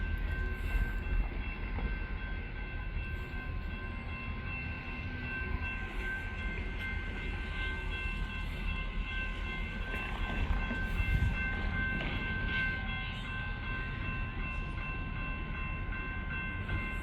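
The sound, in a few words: train passing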